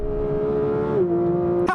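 A 2025 Porsche GT3 engine holds a steady high drone, then drops in pitch as it shifts gears and keeps pulling, loud and close.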